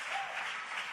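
A church congregation claps in praise, a brief dense wash of applause heard at a moderate distance, with a faint voice over it.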